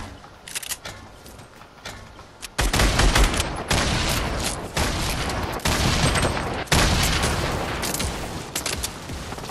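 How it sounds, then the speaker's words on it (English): Fortnite gameplay with heavy weapon fire, loud dense bursts of explosive shots and gunfire that start abruptly and continue in a sustained barrage. "Want me to suppress with the grenade launcher?"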